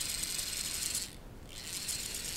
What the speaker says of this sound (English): Takes quite a lot of torque before it finally climbs out of gear.